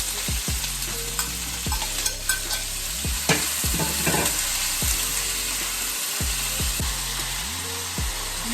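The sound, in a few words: chopped vegetables sautéing in hot oil for Jamaican ackee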